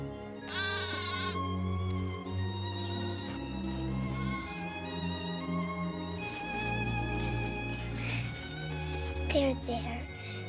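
Repeated high, quavering bleats of a small goat, close and clear, set against steady orchestral music, with someone speaking intermittently between the cries.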